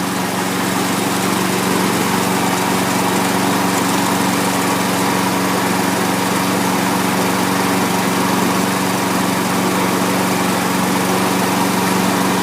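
A Lawn-Boy or Toro self-propelled lawn mower runs steadily, its small engine droning loud and close without pause, with no talking over it.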